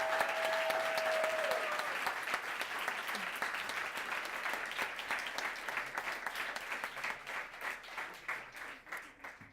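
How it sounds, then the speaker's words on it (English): A crowd applauds students at an awards ceremony for a debate program, dense clapping that starts full and gradually thins into scattered, individual claps toward the end. "can we please give these students a big round of applause?"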